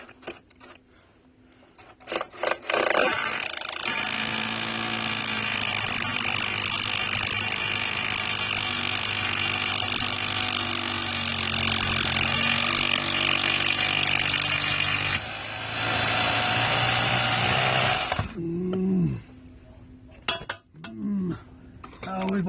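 A power driver sinks a blue Tapcon mortar screw into masonry while rebuilding a crawl space door, giving a long, loud, steady grinding whir that cuts out and restarts in shorter bursts, with a few brief words around it.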